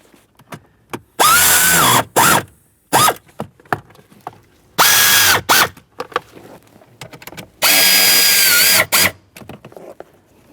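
A power tool snugs up the HVAC blend door actuator mounting bolts in a Jeep Patriot, heard as three loud whirring bursts with a short blip between them and quiet handling noises in the gaps.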